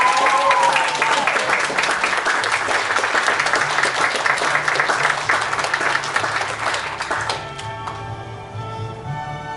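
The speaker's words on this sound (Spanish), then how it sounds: "Con un fuerte aplauso" A crowd at a high school graduation applauds with sustained, dense clapping that gradually thins and fades toward the end.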